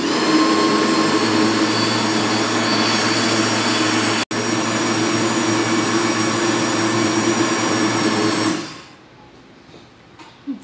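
A blender whirs loudly and steadily while mixing a passion fruit gelatin mixture, with a brief cut near the middle, then stops and falls quiet near the end.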